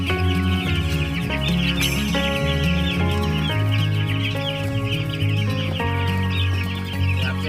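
Mabar chickens cluck and crow repeatedly over a busy background with steady tonal music or noise, the birds fairly close and loud.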